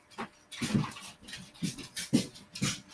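A dog pants in quick rhythmic bursts with soft whimpering whines mixed in, close and fairly loud throughout.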